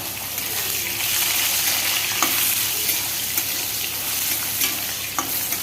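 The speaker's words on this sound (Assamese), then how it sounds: "আলুখিনি অকণমান এনেকৈ ফ্ৰাই কৰি লওঁ।" Sliced potato and fiddlehead fern fry in a pan with a dense, even sizzle close by, marked by occasional scraping taps of a spatula stirring.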